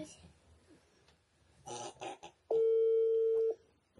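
A phone rings with an incoming call in a home: a single steady electronic tone holds for about a second after a stretch of quiet talk and household murmur.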